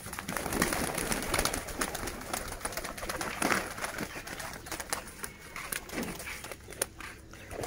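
Pigeons coo and flutter inside a loft on a Lotan pigeon farm, a dense, busy murmur of birds at close range with scattered soft taps and rustles throughout.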